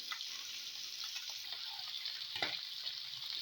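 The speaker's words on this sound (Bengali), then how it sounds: "আমি মাছগুলোকে একটু সরষে তেলে ভেজে নেব।" Fish frying in hot mustard oil in a frying pan, a steady close hiss and crackle of sizzling with one brief louder spatter, no voices.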